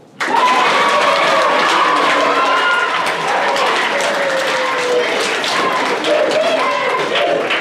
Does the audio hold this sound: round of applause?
yes